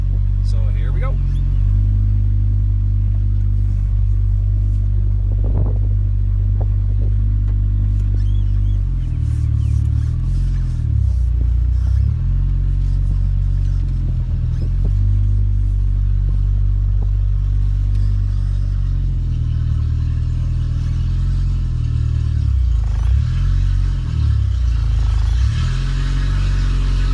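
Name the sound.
1982 Fiat X1/9 car engine while backing into garage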